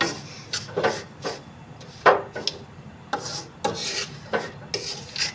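Besan barfi mixture with sugar being stirred in a pan on the stove, giving repeated scraping, rasping strokes in an uneven rhythm, close and fairly loud with no talking.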